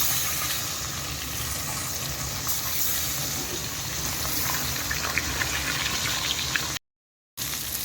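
Pomfret fish frying in a pan gives off a dense, steady sizzle and bubbling hiss, close and unbroken for several seconds, with small crackles on top before a brief cut to silence near the end.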